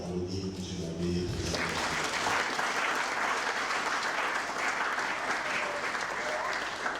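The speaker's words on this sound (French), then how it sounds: "Une fois de plus, je vous demande d'applaudir M. Labbé." A colloquium audience at a 50th-anniversary ceremony applauds speaker M. Labbé: after a brief moment of other sound, steady, dense clapping fills the room and continues evenly to the end.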